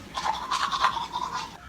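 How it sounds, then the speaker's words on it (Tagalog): Close, steady toothbrush scrubbing on teeth, a busy rhythmic bristly rasp lasting under two seconds with no talking. "Nag-toothbrush ako."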